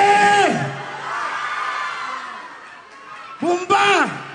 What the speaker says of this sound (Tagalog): Wala bang malakas na sigawan dyan?